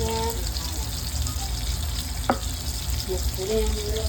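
Apples cook in syrup in a frying pan, with a steady close sizzle and bubbling throughout and a single sharp scrape of the stirring utensil midway. Faint voices can be heard underneath.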